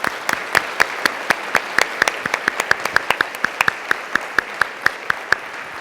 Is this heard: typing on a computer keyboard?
no